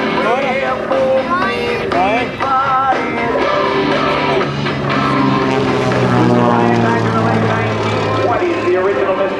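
A Mystery Ship replica propeller airplane performs aerobatics at an airshow, its engine droning loudly and steadily with shifting pitch throughout, while an announcer talks over it.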